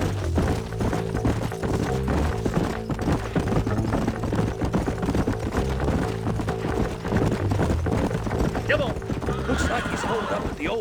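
Horses in the video game Red Dead Redemption, a steady clip-clop of galloping hooves with a whinny near the end, under a continuous game score and voices talking.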